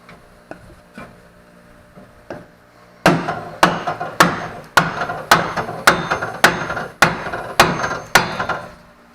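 Light taps at first, then a steady series of loud, sharp hammer blows on a wooden drift, about a dozen evenly spaced strikes ringing out close by while fitting a 9-inch gearset.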